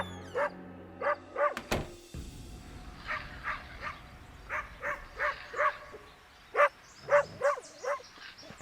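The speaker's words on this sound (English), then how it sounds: "Whole lot of yapping going on over there." A dog barks excitedly on a rural property in a quick run of sharp yaps and yips, roughly a dozen bursts in uneven clusters, fairly close and standing alone.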